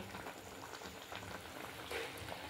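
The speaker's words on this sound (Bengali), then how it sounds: "আর এদিকে তরকারি ফুটতে শুরু করে দিয়েছে" Curry with potatoes boils in a pot, giving a steady soft bubbling and simmering hiss close by, with a slightly louder burst of bubbling near the end and no voices.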